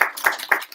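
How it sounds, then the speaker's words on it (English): Audience at a Rumble House art auction clapping for an artist, a few short bursts of applause that swell and fade in quick succession, fairly close and moderately loud. "big round of applause for Shelly."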